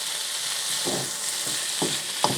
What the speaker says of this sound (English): we're just going to stir this occasionally on a medium heat